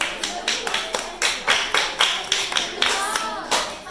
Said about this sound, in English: tell me why you just clapped.